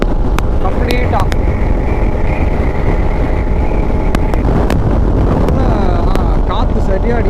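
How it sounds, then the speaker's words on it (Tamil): Strong wind roars into the microphone on a motorcycle ride along a cement road, a loud, constant rush with engine hum underneath, and a voice talks over it. "காற்று சரியாக அடிக்குதுங்க."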